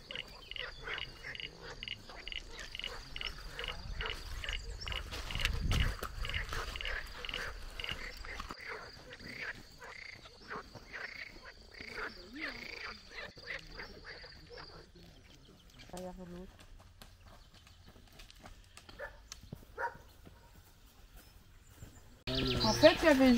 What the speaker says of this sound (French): Il y a des grenouilles, tu les entends